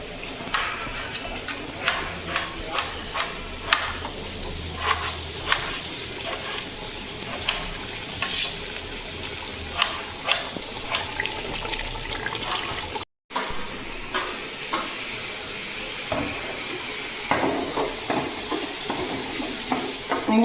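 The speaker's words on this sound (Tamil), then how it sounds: "வெங்காயம் தக்காளி வதக்கி இதிலே பார்த்திங்கன்னா தேங்காயும் போட்டு நல்லா வதக்கி" Onion, tomato and coconut sautéing in a pan, a continuous soft sizzle with frequent light ticks and scrapes of stirring, moderately close, with a brief dropout midway and no talk.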